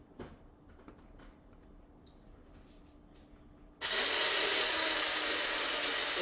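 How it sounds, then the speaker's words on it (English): A handheld electric coffee grinder starts up partway through after quiet handling noises, then runs with a loud, steady whirring hiss as it grinds coffee beans poured straight from the bag. "this is a handheld coffee grinder"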